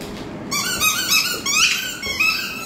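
A squeaky plush teddy bear pet toy gives a series of high, sharp squeaks in quick bursts, close and fairly loud, with a brief quiet moment before the first squeak.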